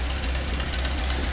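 A tractor engine idles with a steady, knocking low rumble and mechanical vibration, loud and close, with no talk over it.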